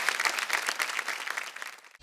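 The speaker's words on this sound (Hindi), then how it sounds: "भाई जोरदार तालियां हो जाएं" A reality-show audience applauds a newly named finalist at a folk singing competition, steady dense clapping that fades and cuts off near the end.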